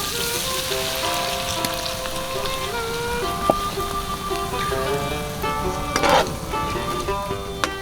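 Garlic hitting a hot pan as it is deglazed in an outdoor woodland camp cooking setup, a loud continuous crackling sizzle with a sharp spitting flare near the end.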